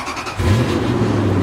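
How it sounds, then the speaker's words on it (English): A Lexus LX470 or Toyota Land Cruiser engine cranks by remote start and catches, settling at once into a steady, close idle rumble. "the car starts right up"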